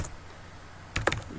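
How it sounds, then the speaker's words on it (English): A brief flurry of a few close keystrokes on a computer keyboard after a quiet pause, quick and clicky. "what am I typing?"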